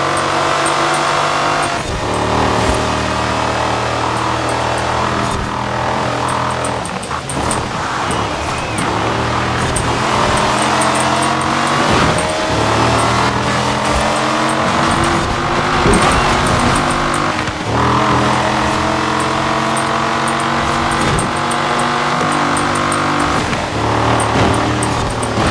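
A Maserati MC12 engine roars steadily in Forza Horizon 4, a loud, continuous drone with repeated rising revs and gear-change dips as the car drives on without pause.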